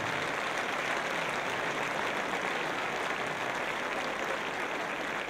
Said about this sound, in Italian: un applauso ancora a questi splendidi ragazzi